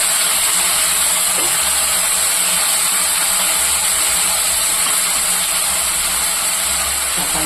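Chopped onions and tomatoes frying in a pan for a homemade beans gravy, a loud continuous sizzling hiss that stays even throughout.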